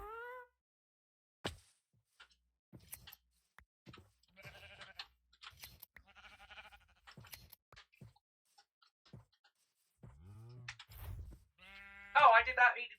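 Short, faint sheep bleats from the Minecraft game, heard as scattered brief calls among light clicks and plops, with a louder burst of bleating near the end.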